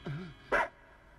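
A dog in a 1999 Hindi film scene gives one short, loud bark after a brief whining yelp, then the space falls quiet.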